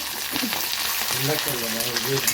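Green chillies, curry leaves and ginger fry in hot oil alongside chana dal and peanuts, giving a steady crackling sizzle while a voice speaks briefly over it.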